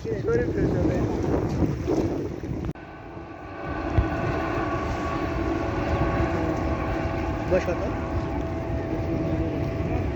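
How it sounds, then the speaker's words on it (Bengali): Cargo launches at the Chittagong sea port, a steady low engine drone with faint tonal hum running throughout, wind noise on the microphone, and a brief knock partway through. "মালবাহী সব লঞ্চ।"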